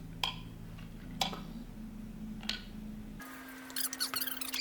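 Light switches flipped in a Rick and Morty episode, three faint sharp clicks spaced about a second apart over a low hum, followed by a change to brighter busy background sounds.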